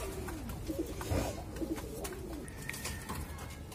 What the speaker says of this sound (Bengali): এগুলো আমার নর কবুতর।